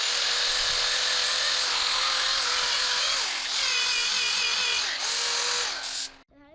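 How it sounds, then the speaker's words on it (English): A wooden bowl being sanded while it spins on a lathe, giving a steady, loud motor whine with a rough abrasive hiss that runs continuously and then cuts off abruptly near the end. "I'll sand a bowl real fast."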